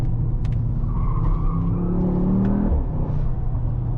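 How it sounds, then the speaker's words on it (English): A 2024 Mercedes-AMG GT 63 S 4-Door twin-turbo V8 droning, with a brief high-pitched tire squeal partway through as the car works hard through a corner. "Maybe you can hear the tire squeal."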